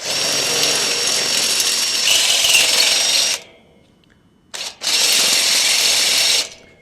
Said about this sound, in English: we're going to drill the upper hole with the same drill bit